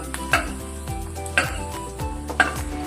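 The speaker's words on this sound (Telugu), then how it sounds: "జీడిపప్పు నెయ్యిలో వేయించుకుంటే బాగుంటుంది" Cashews frying in ghee in a pan for tomato bath, with a spoon scraping and stirring against the metal in three distinct strokes about a second apart over a low sizzle. No one speaks.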